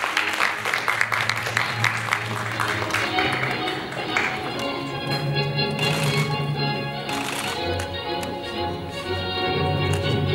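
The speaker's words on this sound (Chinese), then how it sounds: "请各位再次用热烈的掌声来恭喜我们这四组得奖的" At a culture-industry news reporting awards ceremony, an audience applauds the winners with a sustained patter of clapping, loud and steady, while an emcee's amplified voice talks over it.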